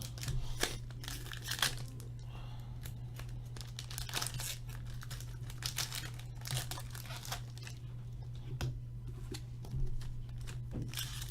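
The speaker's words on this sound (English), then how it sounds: "Just hate that these packs rip so easily." Hockey card packs are crumpled and torn open in a steady run of crinkling and ripping, close up and fairly quiet over a constant low electrical hum, with no one speaking.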